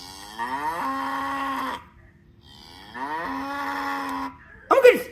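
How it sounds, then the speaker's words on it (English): A cow moos twice in long, low, drawn-out calls separated by a brief pause, loud and close, with a short sharp noise at the very end. "It's a cow."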